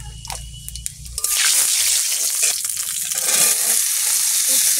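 Panch phoron spices hit hot reused fritter-frying oil in a pan, breaking into a sudden loud, steady sizzle after a second of quieter handling sounds, with no voices.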